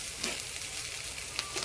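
Bagoong alamang shrimp paste sizzling in oil, a brief, close, steady crackling hiss with a few small pops.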